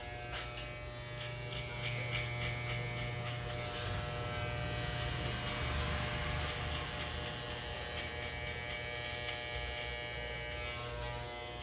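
Electric hair clippers fitted with a number 1 guard buzz steadily while cutting a fade, a close continuous hum with slight shifts as the blade moves through hair.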